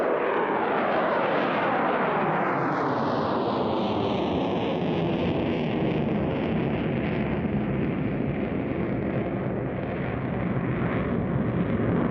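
A Sukhoi Su-35S Flanker E multi-role fighter passes at an air force anniversary airshow. Its jet engine roars loud and continuous, with a sweeping shift in pitch as it flies by.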